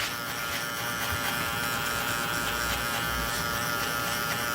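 Electric hair clippers fitted with a 3 mm guard buzz steadily and close up, trimming a two-block haircut with no speech over the hum.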